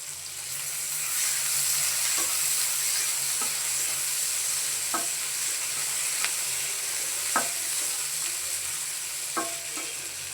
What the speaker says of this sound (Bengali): আমি এখন এই পেঁয়াজগুলো লাল লাল করে ভেজে নেব